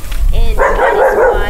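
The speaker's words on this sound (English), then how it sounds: "excuse my dog" A pet dog barks indoors with a short yipping burst close to the microphone, heard over someone speaking.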